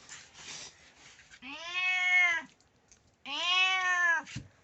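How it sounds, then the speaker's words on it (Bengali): A cat being held lets out two long, loud, plaintive meows close by, following some soft rustling, with a brief pause between the cries. "আরে বিড়ালটা আমার কাছে আকুতি করে রে"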